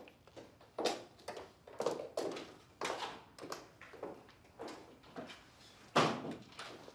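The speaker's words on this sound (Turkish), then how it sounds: "Hadi, kapıyı da üstünden kapa." A door is pushed shut in a house amid a run of soft knocks and clunks spread over several seconds, ending with a sharper, louder thud near the close.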